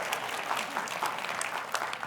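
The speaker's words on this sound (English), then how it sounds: "that usually brings a big applause when she's here" A church congregation breaks into steady, even applause that fills the room at moderate volume and holds without pause from start to finish.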